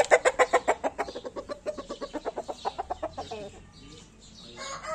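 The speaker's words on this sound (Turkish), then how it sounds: "Güzellik yarışı yapan imparator horozumuzu buraya koyverdik." An emperor rooster kept for beauty contests, released outdoors on a windy day, gives a rapid run of loud, rhythmic clucks that trail off into softer calls, heard close and alone.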